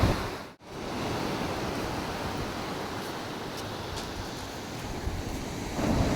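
Steady rushing roar of sea waves washing onto a beach, broad and continuous with wind noise, a brief dropout near the start.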